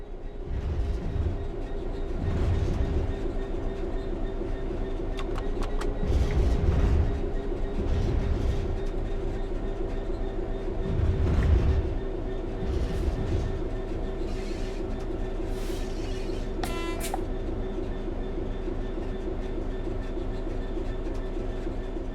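Train coasting on level ground in the railway simulator Train Sim World 3: a steady low rumble of rolling wheels with rhythmic clickety-clack over rail joints, a constant motor hum, and a brief high squeal near the end.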